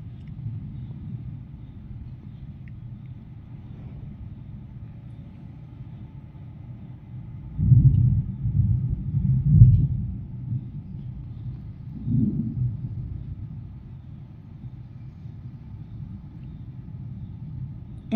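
Thunder rumbling during a storm in Pretoria, low and distant under steady wind noise, with several swelling rolls around the middle of the stretch and a fainter one later, no talking.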